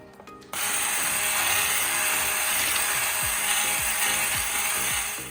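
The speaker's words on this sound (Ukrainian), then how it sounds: "Збиваємо яйце, сіль, цукор до пишної маси" Rapid rhythmic scraping and clicking of a whisk beating egg, salt and sugar in a bowl, continuous and close, after a brief quieter start.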